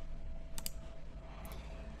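Arrow keys tapped on a computer keyboard while nudging selected objects in Adobe Illustrator, giving two short clusters of faint plastic clicks about a second apart over a low steady room hum.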